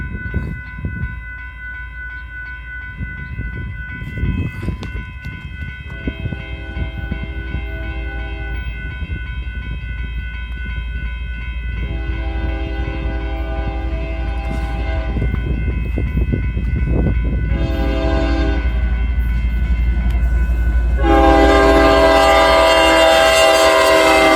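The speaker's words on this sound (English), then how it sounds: "There's the fourth time we've seen those locomotives pass us." GE locomotives on a Canadian railway rumble past close by, their engines droning steadily louder while the horn blows in several long, loud blasts, the last one the strongest.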